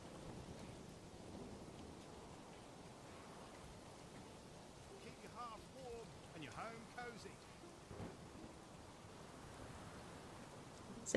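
Stormy rain in the medieval city-building game Manor Lords, a steady hiss of downpour with low rumbles underneath and brief louder bursts, while a voice talks quietly over it.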